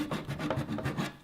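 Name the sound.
dovetail saw cutting along a body line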